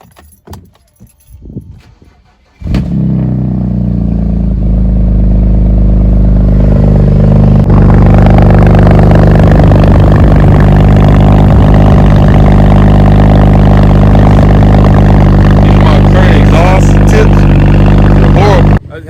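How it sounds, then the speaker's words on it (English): A BMW N54 car engine starts after some quiet clatter, then idles loud and steady for a long stretch while warming up, close to the listener. "I'm just gonna let my car warm up a little bit and then we out"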